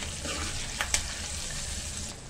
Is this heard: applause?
no